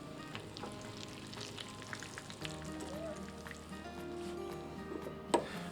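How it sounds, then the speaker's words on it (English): A thick fish fillet frying in a pan gives a steady, soft sizzle and crackle, close and continuous, with a brief sharp tap near the end. "So while our fish is cooking away,"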